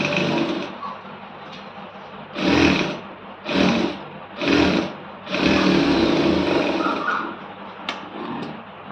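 A sewing machine stitches a hem folded over a quarter inch, running in four loud bursts of steady motor whirring, the last one longest, with quieter pauses between them.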